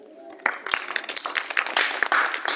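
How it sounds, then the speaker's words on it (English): Students at an English club visit to a science innovation centre in Bwejuu start with a few scattered claps that build into fuller, uneven group clapping, with some voices mixed in. "you should clap yourself first"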